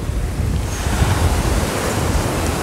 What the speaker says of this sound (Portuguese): Tem ondas, mas ondas suaves, né?